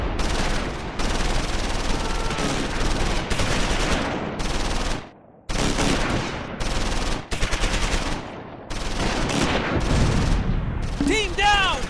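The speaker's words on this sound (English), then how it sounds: "Marvin's medium machine gun team takes fire from the Panzers." Heavy gunfire from German Panzers in the Close Combat 4 video game, set in the Battle of the Bulge: loud, near-continuous machine-gun bursts and booming shots with brief gaps, ending in a sharp metallic ringing.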